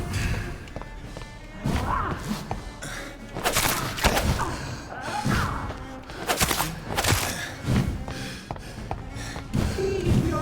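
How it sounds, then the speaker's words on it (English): Ground exploding under a golem's attack in the video game Vampyr, a string of heavy booming thuds and sharp blasts over a continuous rumbling battle bed. "you're making the ground explode"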